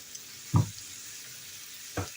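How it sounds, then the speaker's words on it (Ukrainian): Steady sizzling of onion and carrot frying in a pan for plov, with two brief louder clunks of stirring. "цибульку піджарили, морковка хай смажиться"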